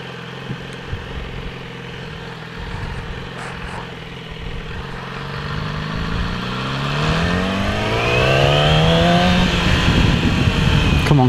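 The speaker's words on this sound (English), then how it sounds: "I hope you can hear the exhaust, because it sounds nice." A motorcycle exhaust on the move, a steady droning engine note that climbs into a rising, louder rev toward the end as the bike accelerates along a road.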